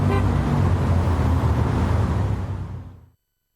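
Steady road rumble from inside a tour bus moving through traffic, loud and continuous with a faint horn toot, then cut off abruptly near the end.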